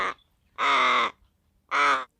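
A young crow gives loud, harsh caws close by, one short clipped call followed by two longer drawn-out ones with brief pauses between, alone with no talk.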